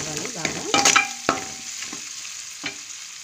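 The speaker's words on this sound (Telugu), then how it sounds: "అల్లం వెల్లుల్లి చిట్టగొట్టుకున్నాం కదా, అది వేస్తున్నాము. ఫ్రై అవ్వాలి బాగా." Chopped ginger-garlic paste with green chillies frying in oil in a pan for a fish curry, giving a bright continuous sizzle with a few spatula scrapes and knocks early on, easing off toward the end.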